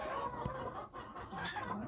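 A broody hen squawks and clucks loudly close by, with harsh cries repeating over a steady rustle of farmyard noise.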